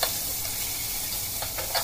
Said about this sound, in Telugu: ఒక టేబుల్ స్పూన్ అల్లం వెల్లుల్లి పేస్ట్ వేసుకుని పచ్చివాసన పోయే వరకు బాగా ఫ్రై చేసుకోవాలి